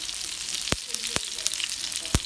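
Mustard seeds and a dried red chili frying in hot coconut oil, a steady soft sizzle with a few sharp, separate pops from the bursting seeds.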